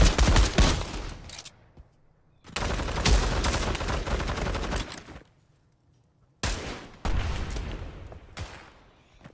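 Pistol gunfire in the World War II shooter Pavlov WWII, heard as three loud, close bursts of rapid shots, each lasting a second or two and separated by sudden silences, with no talking.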